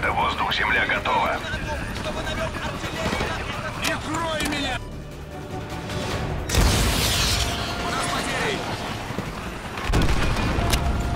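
Call of Duty Modern Warfare 2 Remastered combat with rocket explosions destroying a tank and an armoured personnel carrier, heavy booms and rumbling blasts over continuous battle noise, with someone talking throughout.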